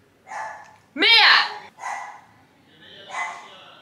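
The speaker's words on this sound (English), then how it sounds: "Why is my dog barking in the background?" A dog barks a few times in the background, sharp yelping barks with brief gaps, the loudest one in the middle, heard at moderate distance in a quiet room.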